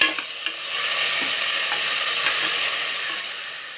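Tomatoes hit a hot pan of sautéed onion and garlic and sizzle steadily and loudly, with a few scraping stirs of a spoon near the start, close up and with no talking.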